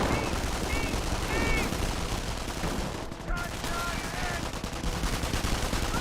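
Commando submachine guns rattle in long, continuous bursts in Company of Heroes 1, a loud, steady battle din with scattered game voice calls over the firing.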